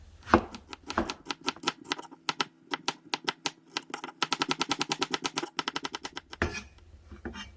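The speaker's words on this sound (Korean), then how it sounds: "먼저 양파, 양파는 작은 걸로 굉장히 얇게 채 썰어주세요" A knife cuts a small onion into very thin strips on a board, giving a dense run of quick, crisp chopping taps. The taps come in bursts and speed up into a rapid steady rhythm near the end.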